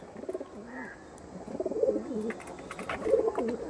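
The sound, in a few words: Andhra red-necked pigeon cooing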